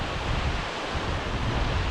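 Water rushes steadily over the overflow of Loch Lee Reservoir in Scotland after heavy rain, a dense, constant roar of broadband noise filling the scene without pause.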